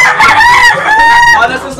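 A fighting rooster crows loudly and close by in one drawn-out call, with people talking excitedly in the background.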